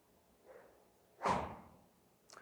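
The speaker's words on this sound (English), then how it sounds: "Give me high pitch whoosh sound." A golf club swing produces a single sharp whoosh, close and loud, preceded by a softer rustle and followed by a faint click, with no talking.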